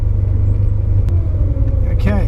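Porsche 911 rolling slowly onto a weighbridge at a local tip, a steady low engine rumble close by, with a brief squeal near the end; people talk over it.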